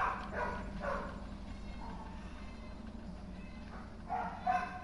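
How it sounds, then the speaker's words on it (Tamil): A neighbour's dog barks faintly in the background near a home streaming setup, a few soft yips scattered over steady room noise and game sound. "பக்கத்தில் வேறு நாய் குலைச்சிட்ருக்கு ஸோ அதெல்லாம் கூட உங்களுக்கு கேட்குதா என்னன்னு தெரியல"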